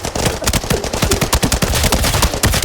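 Rapid bursts of automatic gunfire from the shooter game Arena Breakout Infinite, sharp loud shots stacking into continuous rattling volleys for nearly three seconds with no talking.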